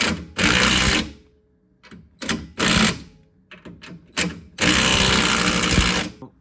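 Nuts on the U-bolts of a Triumph TR6 anti-sway bar bracket being tightened with a power tool in several loud, close bursts of whirring, some long and some short, separated by pauses.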